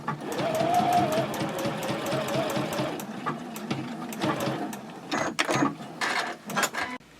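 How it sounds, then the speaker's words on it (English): Sewing machine stitching a seam on a fabric purse, a close, steady rhythmic whir that slows into choppy bursts and stops near the end, no talk over it. "now we'll sew the other side"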